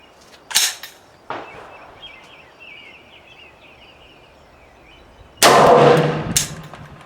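SKS rifle shots at an outdoor shooting range, the gas block lever popping up with each shot: a few sharp separate cracks early on, then one loud, longer blast near the end, with quiet gaps between.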